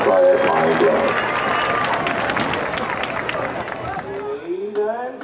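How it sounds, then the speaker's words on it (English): Stadium crowd at a University of Arkansas at Pine Bluff Golden Lion football game applauds and cheers loudly and steadily, with broad crowd noise filling the stands and an announcer's voice heard near the end. "big round of applause for Dr. Lawrence Alexander, Chancellor of th"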